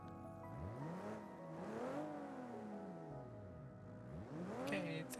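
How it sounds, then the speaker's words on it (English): A Toyota Supra driven in BeamNG.drive, its loud engine revving up and down in sweeping pitch swells, with a sharper rev burst near the end and no voices. "This car is very loud."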